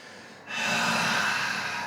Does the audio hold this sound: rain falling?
no